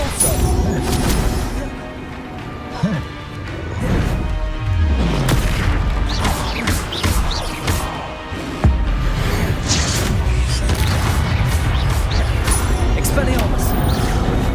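Depulso spell blasts in Hogwarts Legacy land as loud booming impacts and crashes amid ongoing combat effects, with a voice casting over the din.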